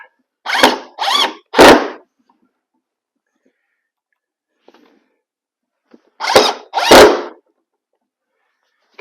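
A power drill drives screws into an MDF interior door in short bursts: three quick whirs, a pause, then two more, close and fairly loud.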